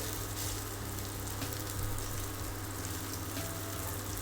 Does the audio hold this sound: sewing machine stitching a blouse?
no